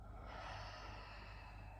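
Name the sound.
exhaling breath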